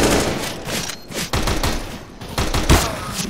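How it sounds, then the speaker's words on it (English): Shotgun blasts in Counter-Strike: Global Offensive, several sharp bursts in an uneven rhythm, close and loud amid other in-game gunfire and clatter. "Shotgun."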